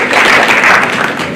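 A school prize-giving audience claps briefly, a short loud burst of hands that reads more as a quick smattering than two crisp, separate claps, with no voices over it.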